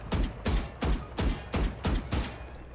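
Six evenly spaced gunshots ring out from a stationary shooter in Valorant, each a sharp, punchy crack with a deep thump, loud and close with brief gaps between them.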